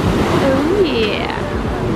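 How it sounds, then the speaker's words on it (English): Ocean surf rolls in at night on a California beach, a loud, steady wash of breaking waves close by, mixed with wind noise on the microphone. "I'm talking through the waves."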